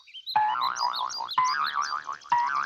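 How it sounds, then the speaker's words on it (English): Cartoon spring bouncing, three bright wobbling boing sounds in quick succession, each a sharp twang that warbles as it fades, loud and alone. "I like the bendy boingy sounds it's making."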